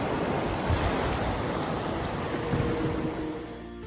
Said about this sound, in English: The river's been a lot of fun today. It's actually moving quite quick.